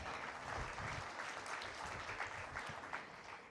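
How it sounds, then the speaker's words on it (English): An audience at the 32nd IPA Congress in New Delhi gives a steady, dense round of applause for an award recipient, many hands clapping at once and sustained at an even level throughout. "Can we give her a round of applause?"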